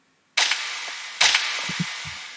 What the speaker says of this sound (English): I also added this like gunshot effect into every 8 bars, just nice transition, sounds good.